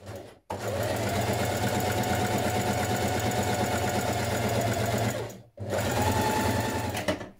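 A sewing machine runs long straight gathering stitches along a sweater piece in two sustained, loud, close runs of even mechanical whirring, broken by a brief stop between the lines.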